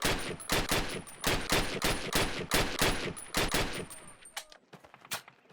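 Rifle fire in the 2003 Call of Duty video game, a rapid string of about a dozen sharp, evenly spaced shots that end near four seconds, followed by a few scattered fainter reports.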